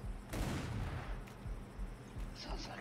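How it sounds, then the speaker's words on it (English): Mortar fire during a naval battle in the game Atlas, with a heavy boom followed by scattered low thuds and rumbling blasts over a few seconds at moderate level. "Oh, you almost hit me with the mortar!"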